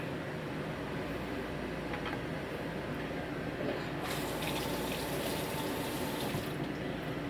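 A kitchen tap runs steadily close by during tofu prep for a vegetarian stir-fry, the water gushing louder partway through as something is rinsed under it.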